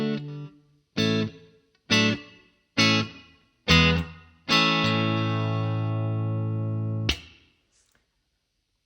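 Five clean guitar notes through an OTO Bim delay pedal with no reverb, struck in a steady rhythm, each ringing and decaying, followed by one long sustained note that cuts off, leaving a faint echoing tail.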